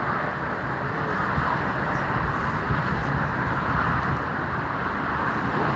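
A German Airways Embraer E190 arriving from Amsterdam at Frankfurt Airport makes a loud, steady broadband roar that holds evenly throughout with no break.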